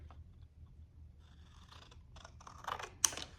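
Scissors cut through cardboard for an RC truck chassis in a few short crisp snips near the end, after quiet room tone, with one sharp louder cut at the close.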